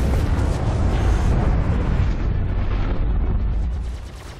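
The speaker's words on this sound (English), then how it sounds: "The sweet sound of the Mark IV laser cannons working in conjunction with those wonderful Badger repeaters" Heavy, rumbling blasts of Mark IV laser cannons and Badger repeaters fired from an Anvil Gladiator fighter in a sci-fi video game roll continuously, loud and dense, fading slightly at the end.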